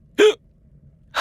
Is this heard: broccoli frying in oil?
no